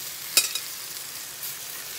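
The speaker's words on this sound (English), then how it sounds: "Now we're gonna put our onions on top to have those continue to cook too." Liver and onions frying together in a pan, a steady close hiss of sizzling oil with a brief scrape or clink of a utensil near the start.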